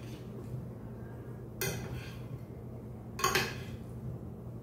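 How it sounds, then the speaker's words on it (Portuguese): A spoon works through potato salad with onion in a bowl, giving two brief, quiet scraping clinks against the dish with soft stirring between them. "Mistura bem direitinho aqui a batata aqui"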